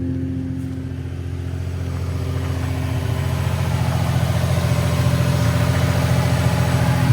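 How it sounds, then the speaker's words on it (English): A Nissan 350Z with 176,000 miles idles close by, its engine running smooth and steady while the faulty exhaust drones with a loud, rough rumble that grows slightly louder over time. "It's got that terrible noise that the 350Zs make"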